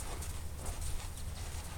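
A horse trots in a riding lesson, its hooves clip-clopping in a steady, continuous rhythm against a low, rumbling background, with no voices.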